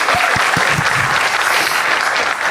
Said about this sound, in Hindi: जोरदार तालियां गाइस।